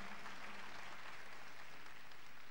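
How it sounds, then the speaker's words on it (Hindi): Spontaneous applause from a concert audience at a tribute concert, a broad steady wash of clapping lasting a couple of seconds with no voices over it. "स्पॉन्टेनियस तालियां सुनी"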